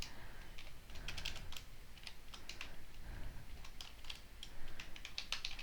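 Steady, fast clatter of fingers on a computer keyboard as Python code is typed, light irregular keystrokes close up with no talking.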